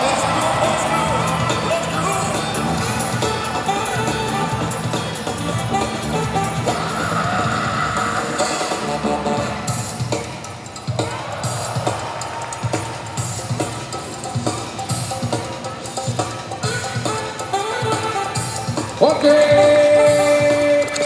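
Crowd cheering and whooping at the Criollo Style 2014 dance battle between Revolucion B&N and Team Loco, loud and continuous over pounding music, with shouts rising and falling and a sharp surge near the end.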